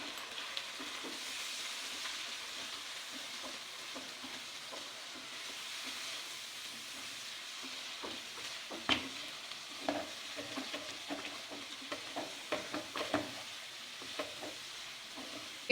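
Spices for masala bhindi stirred in oil in a pan, a quiet steady sizzle with scattered light clicks and scrapes of a spoon, growing busier toward the end.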